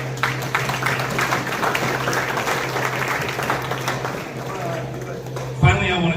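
Audience applause at a high school tennis banquet: steady, dense clapping from a crowd in a hall for several seconds, with a talking voice over it and a brief louder burst near the end.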